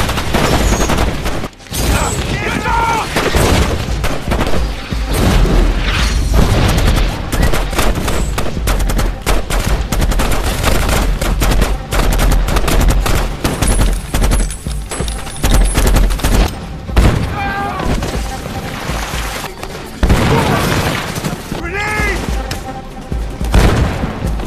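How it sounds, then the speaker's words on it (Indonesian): Rapid bursts of gunfire and automatic weapons rattle almost nonstop in a film battle, with heavy booms of explosions mixed in, loud and dense throughout. "Dan dari situ langsung terjadi baku tembak menegangkan."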